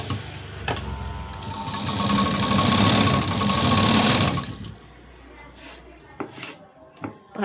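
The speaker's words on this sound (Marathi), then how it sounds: "आता इथे मी शिलाई देते." A sewing machine stitching a fabric sleeve runs in a steady, loud mechanical whir for about four seconds, then stops, leaving soft handling noises and light clicks.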